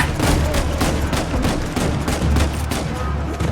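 Rapid machine gun fire from a firefight in the video game Uncharted 4, a dense, continuous stream of loud shots with overlapping bursts and booming low rumble, no voices.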